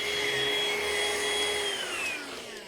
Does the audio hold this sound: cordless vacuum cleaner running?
yes